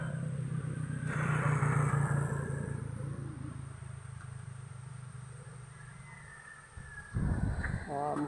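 A motorcycle engine rumbles past during Typhoon Odette, swelling and then fading, with wind noise and brief talking in the background.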